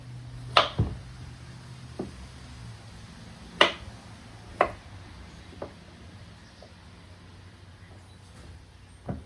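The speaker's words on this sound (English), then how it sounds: "Slice your potatoes up." Potatoes being sliced with a knife, a few scattered sharp cuts and taps against a board at close range, spaced irregularly over a low steady background.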